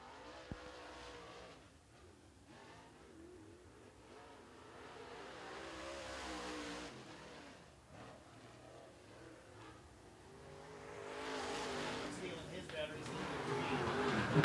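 Dirt track race cars on qualifying laps at Clarksville Speedway, a DIRTcar event, roar from a distance as engines rise and fall around the oval, growing louder toward the end, with voices talking over the steady engine noise.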